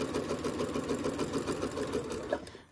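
Sewing machine runs steadily while stitching a quilt block, a continuous close mechanical whir with rapid needle ticking that stops at the end.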